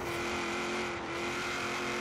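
A V8-swapped widebody Nissan 240SX pulls hard in sixth gear in Forza Horizon 3, a loud sustained engine drone holding steady and close with no voices.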